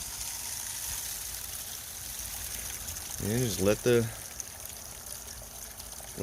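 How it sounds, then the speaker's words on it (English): Paydirt being washed in water while panning for gold outdoors: a steady, close trickle and splashing stream runs throughout, with someone speaking briefly in the middle. "And you just throw it right there into the water."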